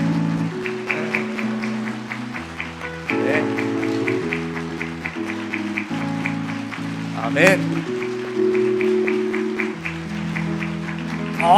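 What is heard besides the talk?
congregation applause at a church baptism ceremony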